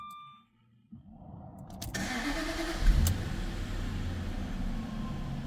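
A 2007 Jaguar XJR's engine cranks briefly after a quiet moment, catches with a loud rev, then settles into a steady, rumbling idle close by.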